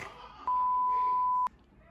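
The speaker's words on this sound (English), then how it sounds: "Beep." A single steady electronic beep sounds for about a second, clear and loud over a quiet room background.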